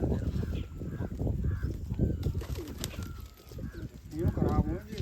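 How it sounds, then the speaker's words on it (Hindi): Several pigeons cooing close by in soft, repeated throaty calls over continuous low background noise, with a brief flutter near the end. "कबूतर देख"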